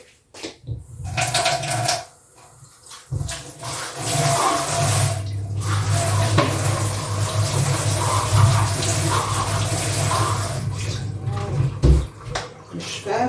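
A kitchen tap runs while a yogurt pot is rinsed, a steady close gush of water flowing for several seconds after a brief start, with light splashing changes and a voice heard faintly at times.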